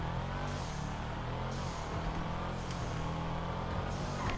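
A turbocharged car engine in GTA5, built to copy a Fast and Furious movie car, drones and revs continuously, with a few brief whooshing bursts over a steady low rumble.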